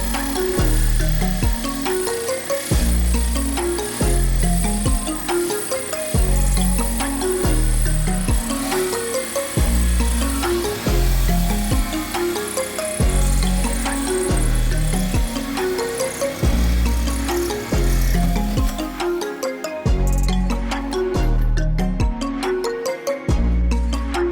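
A drill works through Mercedes van sheet metal, a loud steady grinding whine broken by regular surges and stalls in a repeating rhythm for the whole span, close up with no talk.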